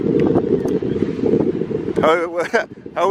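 Strong, cold wind in Auckland city buffeting the microphone with a low, continuous roar, followed by a few brief bright sounds near the end.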